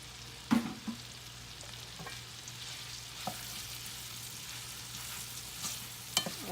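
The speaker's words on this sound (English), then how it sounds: "now we're going to go ahead and add it to our iron skillet with our oil" Food fries in oil in an iron skillet with a quiet, steady sizzle, punctuated by several sharp utensil knocks and scrapes spaced out across the stretch.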